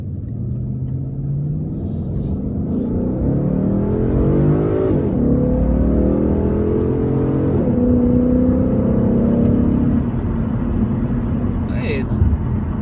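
A 2016 Ford Mustang GT with an automatic transmission accelerates hard in first gear, its V8 rumble rising steadily in pitch and loudness over about ten seconds before easing off, loud and close from inside the cabin.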